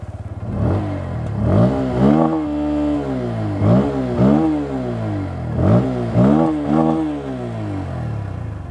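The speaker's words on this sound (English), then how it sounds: "it is now time to hear how the P150 sounds." A Bajaj Pulsar P150 motorcycle revving close by, its exhaust note rising sharply in several repeated throttle blips that fall back to a steady idle between them.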